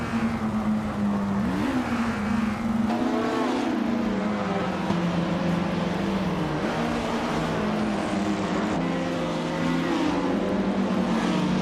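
Race car engines drone steadily through a video game race, one engine's tone rising and dipping with gear changes as other cars hum alongside, loud and continuous with no talk.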